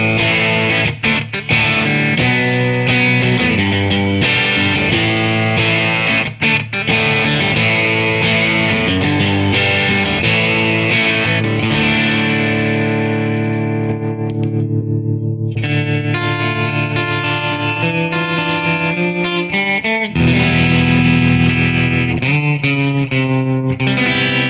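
Electric guitar played through the Digitech RP1000's chimey AC30 amp model, a sustained, effects-rich chorded passage with ringing overtones, loud and continuous with a brief pause midway.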